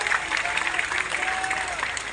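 A crowd at a Christmas celebration in Surabaya claps together in sustained, even applause, fairly loud and continuous throughout.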